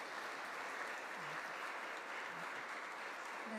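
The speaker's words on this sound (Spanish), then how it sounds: "Vamos a dar un aplauso a ellos porque han venido a ayudarnos." Church congregation applauding musicians after South American carols at an Epiphany Sunday Mass, a steady, dense clapping that fills the whole stretch at moderate distance.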